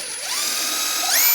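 A ratchet with a 24mm socket spins a tie rod nut off a 2013-2016 Dodge Dart. It gives one short, loud, close whirring burst whose pitch rises as it speeds up.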